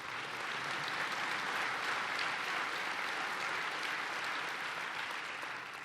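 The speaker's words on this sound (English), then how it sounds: "that's worth applause" An audience applauds during a presidential speech in Estonia: dense, loud, sustained clapping from a large crowd, holding an even level throughout without any voices above it.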